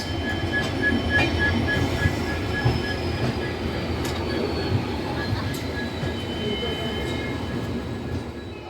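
Saraighat Express (12345, Howrah–Guwahati) pulling out of New Jalpaiguri (NJP) station, heard from inside a sleeper-class coach: a steady loud rumble of wheels and carriage with faint high squeals, continuous throughout.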